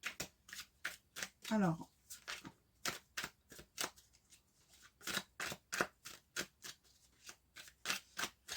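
Tarot cards being cut and shuffled in a rapid run of crisp, evenly spaced riffling snaps, each short burst clear and close, with a brief spoken word near the start.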